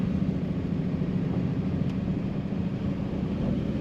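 A 1939 Ford Standard two-door sedan drives in second gear through a roundabout, its engine giving a steady low rumble with road and wind noise, constant and close, with no talking.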